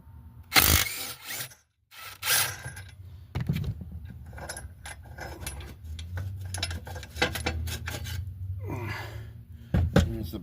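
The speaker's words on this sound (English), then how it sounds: "let's get the blade off of there" Metallic clanks and ratcheting clicks from a wrench loosening the blade on a Snapper 20-inch push mower, close by in irregular bursts with short pauses and no talk.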